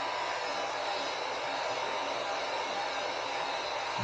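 A heat gun blows steadily while warming the back of a Union Jack belly pan decal on a Triumph Street Triple RS motorcycle, a constant close hissing airflow with no breaks.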